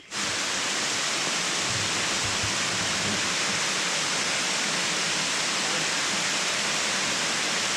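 A steady, loud roar of falling water fills the whole clip, dense and unbroken like a nearby waterfall, on Madeira.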